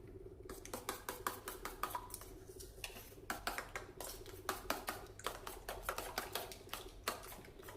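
Two eggs beaten in a bowl for an omelette roll, a quick, steady run of sharp utensil clicks against the bowl that lasts several seconds.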